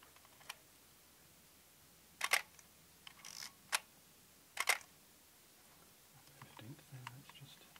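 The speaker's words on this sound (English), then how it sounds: "Let's just get the sound of the shutter." A few sharp film camera shutter clicks spaced apart, crisp and close, with small mechanical handling sounds between them in an otherwise quiet room.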